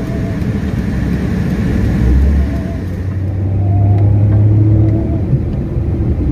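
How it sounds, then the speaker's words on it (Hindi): A Maruti Suzuki Alto 800 engine running just after a service, a close, loud steady hum with a low drone that swells around the middle and again near the end as it revs slightly. "इंजन का साउंड अच्छा हो गया है"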